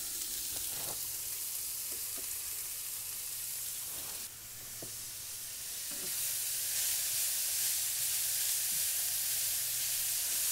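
Leek sizzles steadily in a pan of bacon fat and olive oil, a broad hiss with occasional soft pops and stirring knocks, close up and alone.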